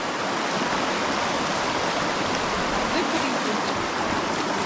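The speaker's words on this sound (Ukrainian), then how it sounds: "А це у нас річка Свіча." The Svicha river flowing through the Carpathian mountains: a broad, steady rushing of water, loud and continuous, heard near the bank.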